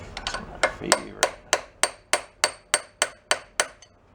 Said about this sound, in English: With a real hammer.